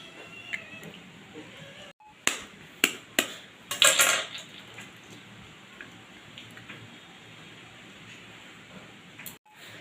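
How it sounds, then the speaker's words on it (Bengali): Eggs cracked into a bowl of ground lentil paste in a home kitchen, giving several sharp, close taps and cracks in quick succession against a faint background hum. "এর মধ্যে দিয়ে দিচ্ছি ডিমগুলো ফাটিয়ে।"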